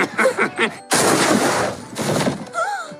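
Gunfire from a movie trailer comedy sequence: a loud, sustained burst of rapid shots fills most of the clip after a short pause, preceded by some vocal sounds and followed by a fading tail with a brief tonal sound.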